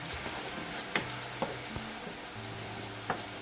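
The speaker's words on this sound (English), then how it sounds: "Keep stirring until it is fully absorbed and the wine is cooked down." Roasted squash risotto rice being stirred in a pan as the wine cooks down, giving a low steady sizzle with a few distinct clinks and scrapes of the spoon, close and moderately quiet.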